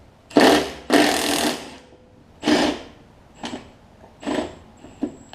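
A 9/16 inch nut is worked loose from a stuck blade on a Poulan XT (Craftsman) riding mower, heard as a close sequence of harsh ratcheting and grinding bursts that fade into shorter metallic clicks and taps.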